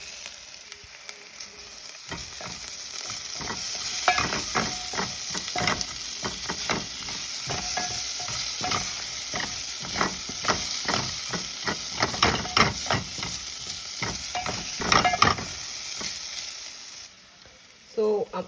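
Garlic and ginger frying with softened onions in a pan, a loud continuous sizzle with sharp crackling pops and stirring scrapes across the whole stretch, close up, then a brief dip near the end.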